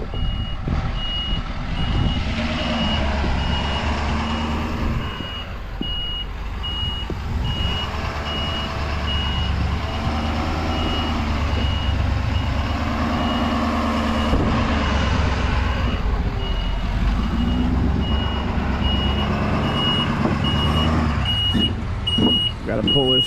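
A truck backs up at an excavation site while pulling a trailer out, steady diesel engine rumble under a regularly repeating high reversing beep, loud and close throughout with heavier revving near the end.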